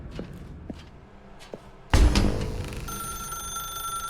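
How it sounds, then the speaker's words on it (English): In The Stanley Parable, soft footsteps in a dark room give way to a loud telephone bell that starts ringing abruptly and keeps going, bright and close, with no voice over it. "Now pick up the phone."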